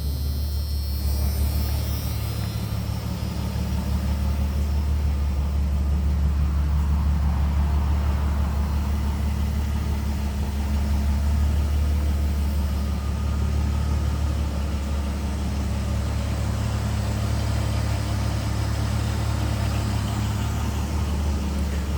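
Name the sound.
1992 Jeep Cherokee XJ engine idling with new muffler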